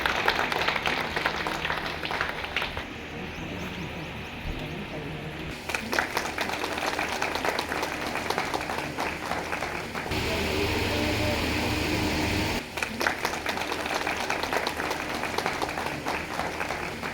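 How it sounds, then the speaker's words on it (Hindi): Loud, sustained audience applause greets Tai at a Mata Ramai Ambedkar birth anniversary gathering, dense clapping rolling on for over fifteen seconds with brief dips and surges and a crowd murmur beneath. "जोरदार तालियों से ताई का स्वागत।"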